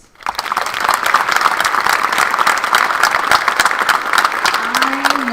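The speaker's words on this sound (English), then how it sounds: "I just want to start with a round of applause for the students." Sustained, dense applause from an audience at a university white coat ceremony for students, starting abruptly and continuing loud and steady throughout.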